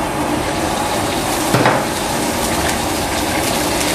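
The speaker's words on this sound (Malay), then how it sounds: "Kita goreng udang tu, goreng masak." Steady sizzling of shrimp frying in hot oil, a constant crackling hiss with a brief clatter partway through.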